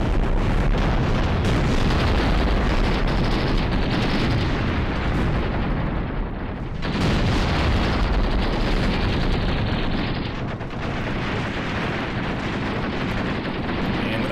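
Dense, continuous rumble of artillery explosions and gunfire striking armored vehicles in the Graviteam Tactics war game, a loud sustained roar with overlapping booms and a brief dip partway through.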